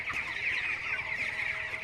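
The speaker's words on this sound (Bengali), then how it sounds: "দেখতে পাচ্ছেন পাখি সব খাচ্ছে" Farm chickens feed and cluck steadily at a poultry farm drinker area, a dense continuous chorus of many birds close by with no talk over it.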